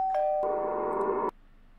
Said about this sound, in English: someone rings your doorbell